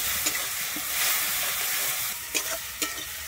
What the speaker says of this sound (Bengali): আমি মশলাটাকে ভালোভাবে কিন্তু আমি এখানে কষিয়ে নেব, যাতে মশলার কাঁচা গন্ধটা চলে যায়।